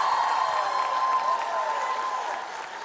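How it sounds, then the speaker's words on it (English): Audience applause at a live Tanzanian TV show, a soft, steady wash of clapping that fades slightly toward the end, heard at some distance. "Clap, please."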